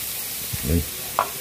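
Pork seasoned with soy sauce and pepper sizzles in a pan during sautéing, a soft steady hiss broken by a couple of brief louder pops or stirring bumps. Nobody speaks.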